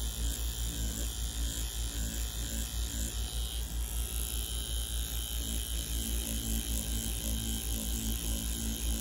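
A Mummy C1 tattoo machine runs at 4 volts for stippling, giving a continuous, even electric buzz with a fine rapid pulse that holds steady and close throughout with no talking.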